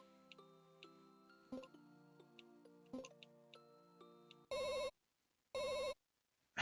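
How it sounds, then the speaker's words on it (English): Telephone in the RPG Maker video game on PS1, faint ticking menu beeps followed by two loud electronic ring bursts separated by a short pause. "And there's a phone as well."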